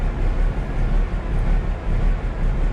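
Steady, loud mechanical drone of a 1040 B wrecker's PTO-driven hydraulics as the wheel lift extends and retracts, a continuous low rumble with no talking.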